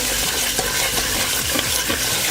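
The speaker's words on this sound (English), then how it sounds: "Let's stir these up." Oats stirred in a pot as they cook, giving a continuous sizzling, scraping stir with repeated spoon strokes against the pan, close and steady, with no voices.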